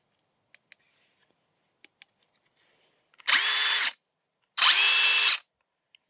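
Two DeWalt 12V DCF903 impact wrenches run one after the other in short bursts of steady high whirring, close and loud, separated by a brief gap, with a few faint clicks before them.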